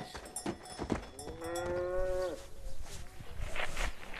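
A cow in Vrindavan, India, lets out one clear, drawn-out moo near the middle, close by and fairly loud, amid outdoor street background noise and a few knocks.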